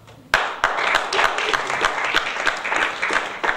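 An audience at a talk breaks into applause all at once after a brief quiet, and dense, sustained clapping fills the room at an even level until the end.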